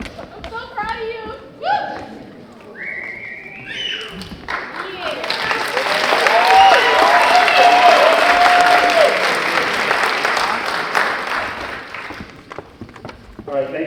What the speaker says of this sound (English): She get a clap